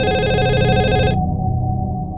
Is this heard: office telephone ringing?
yes